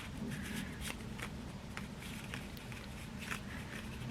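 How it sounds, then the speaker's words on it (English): Soft riffling and flicking of playing cards being shuffled, a few quick rustling bursts over a low background hum, close and fairly quiet. "I'm gonna give them a little bit of a shuffle."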